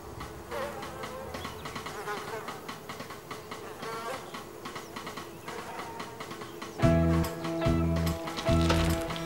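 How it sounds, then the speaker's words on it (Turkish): Bees swarm close by in a rural village, a dense whining buzz that keeps on steadily and then swells into louder, tonal droning pulses near the end, with no talk. "Arılar! Çabuk! Koş!"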